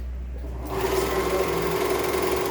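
A serger stitches an elastic waistband casing, starting up after a brief quieter moment into a steady, close, loud mechanical whir with rapid stitching rhythm and no talk.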